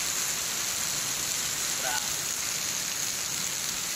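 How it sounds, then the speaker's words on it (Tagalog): Heavy rain falling in Bicol makes a dense, unbroken hiss of downpour on surfaces, loud and steady throughout. "Ingat-ingat na lang po ang lahat at sobrang lakas ng ulan."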